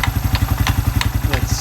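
A Suzuki Quad Runner 250 ATV idles steadily in first gear, its single-cylinder engine putting out a fast, even thumping beat with light mechanical clatter on top, close and fairly loud.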